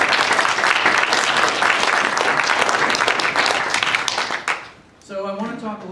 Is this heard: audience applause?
yes